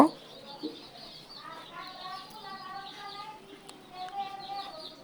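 Chickens on a small farm with ducks nearby, a few soft clucks and calls close by, mixed with quiet background noise and faint talk.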